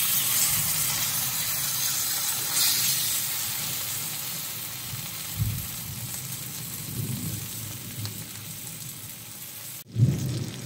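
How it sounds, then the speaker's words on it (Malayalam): Banana-leaf-wrapped fish frying in hot oil for meen pollichathu: a continuous close sizzling hiss throughout, with a few soft bumps and a sharp clatter and burst of sizzle near the end as the parcel is moved. "എണ്ണ ചൂടായിട്ടുണ്ട്, നമുക്കതിലേക്ക് നമ്മൾ ഈ വാഴയിലയിൽ കെട്ടി വെച്ച നമ്മുടെ മീൻ ചേർത്ത് കൊടുക്കാം."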